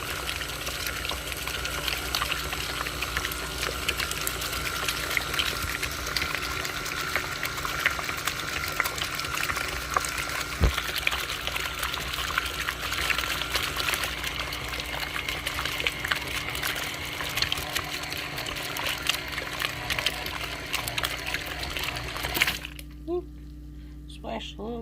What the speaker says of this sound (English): I can feel the little bit of the buttermilk splashing about